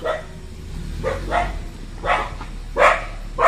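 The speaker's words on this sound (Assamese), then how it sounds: "এইয়া ভুকিছে চোৱা" A dog barks outdoors at night, four or five separate barks spaced about a second apart, moderately near and growing slightly louder toward the end, over a low background hum.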